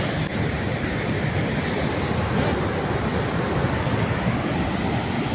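Water pours through the open gates of Machchhu Dam 2 near Morbi in a loud, steady, unbroken roar that fills the whole scene.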